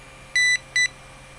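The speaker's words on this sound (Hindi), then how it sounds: "ये बीप मारता रहेगा जब तक इसको बंद या डिस्कनेक्ट नहीं करेगा" A HOTA T6 smart charger for 1-6S LiPo batteries sounds two short, high electronic beeps in quick succession, clear and close over a faint steady hum.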